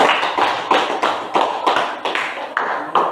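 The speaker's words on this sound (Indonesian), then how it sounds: "Kita kasih aplaus dulu untuk kelompok 2." A class of students gives a group of classmates a short burst of applause, dense steady clapping from many hands that carries on for about three seconds, close and loud with no talk over it.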